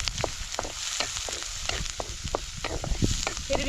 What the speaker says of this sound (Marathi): आणि लगेच कांदा कांदा चांगला परतून घ्यायचा